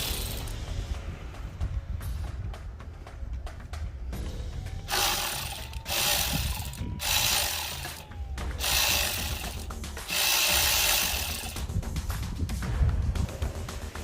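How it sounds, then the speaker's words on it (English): A ratchet loosens the 8mm nut on the throttle body clamp of a 2017 Dodge Charger 3.6L. Bursts of rapid clicking come close up, in several runs separated by short pauses. "he's going to loosen the 8mm nut on the clamp going onto the throttle body"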